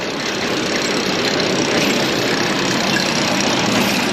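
A 175 Allis Chalmers tractor engine idles steadily in a field, a loud, continuous low rumble with an even mechanical knock that holds constant throughout and has no talking over it.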